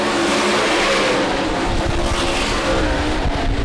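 Sprint cars of the Midwest Sprint Touring Series racing on the speedway: a loud, continuous wall of engine roar from many cars at once, steady and dense throughout.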